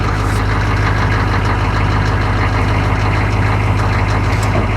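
A 1997 Ford F350 Powerstroke diesel engine holds a steady high idle, a loud, close, continuous low rumble with a rough, clattering texture.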